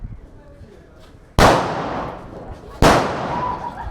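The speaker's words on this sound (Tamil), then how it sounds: "ரெண்டும் அட் டைம் வெடிக்கணும்." Two loud firecrackers from Lakshmi Crackers burst one after the other during Diwali celebrations, each a sharp close bang with a lingering crackling tail, following quiet chatter.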